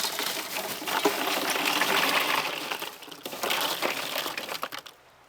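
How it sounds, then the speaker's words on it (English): A small bag of ice is handled and poured into a cocktail keg cooler, giving a dense rattling clatter of cubes tumbling and crunching for several seconds before easing off, close and fairly loud. "Grab a bag of ice. It takes about one small bag of ice."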